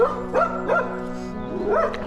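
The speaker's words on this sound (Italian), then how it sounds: "qua c'è un cane che abbaia." A dog barks and yips in short rising bursts, several quick calls in a row, close by and fairly loud against a steady low hum.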